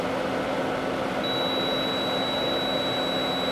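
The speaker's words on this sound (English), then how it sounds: "now we want to check to make sure we still have continuity across this." A multimeter set to continuity emits a steady, high-pitched electronic tone partway in that holds to the end, over a low background hum.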